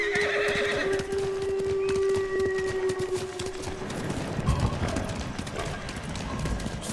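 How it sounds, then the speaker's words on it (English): A horse in a video game whinnies loudly, then hooves clip-clop steadily at a walking pace, close by, with no talking. "The horse don't go in the water."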